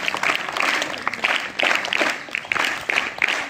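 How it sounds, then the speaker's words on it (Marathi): Tenth-grade students at a school assembly give three bursts of clapping, a dense crowd applause that swells and fades in rhythmic waves. "त्यांच्यासाठी 3 टाळ्या वाजवा."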